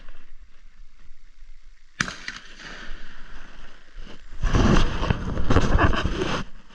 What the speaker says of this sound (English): It's a shotgun, Tom.